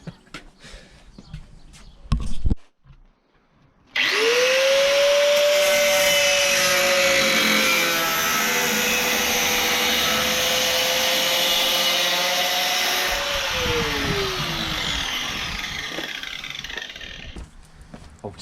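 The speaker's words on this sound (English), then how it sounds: "So then we're going to set up the grinder" An angle grinder cuts into metal on a Subaru Forester STI to make clearance, starting after brief handling noises with a loud, sustained whine whose pitch sags under load and then tails off near the end.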